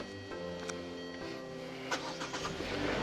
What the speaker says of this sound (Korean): 지금 시동 잘 걸리고요 엔진 소리도 굉장히 좋아요